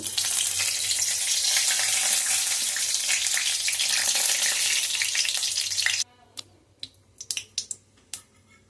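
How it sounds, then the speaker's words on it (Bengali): A bay leaf dropped into hot oil in a wok for cholar dal crackles in a loud, dense sizzle for about six seconds, then the sound drops to a quiet background with scattered sharp clicks and taps. "কড়াই তেল দিয়ে দিয়েছি, তেজপাতা দেব"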